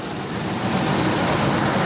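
A Ford truck engine runs with a misfire, a steady close rumble with broadband mechanical noise and no speech.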